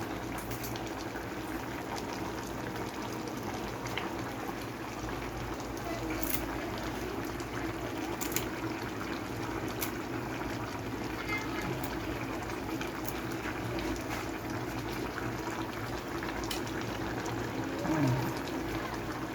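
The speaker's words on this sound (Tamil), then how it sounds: "ஸோ அதை நல்லா கொதிக்க விட்டுருங்க." A steady, bubbling simmer of a tomato mixture boiling in a pot, continuous and close, with faint kitchen clatter and no talking.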